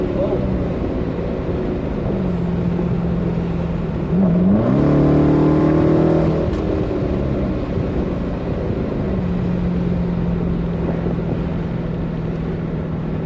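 A car accelerates hard to 80, its engine note climbing in a rising surge through the middle before settling back to a steady cruise drone, heard from inside over heavy wind and road noise.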